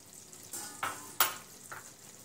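Garam masala being stirred into fried eggplant bharit in a pan: a few distinct scraping stirs with soft sizzling between them, close and fairly quiet, with no talking.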